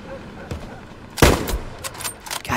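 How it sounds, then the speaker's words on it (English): A tank firing in Hell Let Loose, one heavy booming blast followed by a rumbling tail, with lighter distant gunshots scattered before and after and a voice faintly under the combat noise. "Also really, really hope that's our tank shooting."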